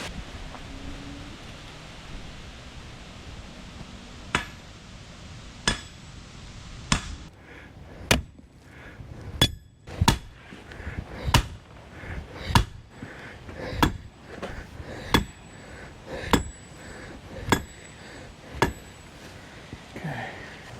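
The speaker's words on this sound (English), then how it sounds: "hit it with the sledge until it gets over to here" A sledgehammer drives a drainage pipe sideways in a trench during outdoor landscape work, landing a series of about fifteen heavy thuds at a steady pace, roughly one per second, that are moderately distant over faint outdoor ambience, with no one speaking.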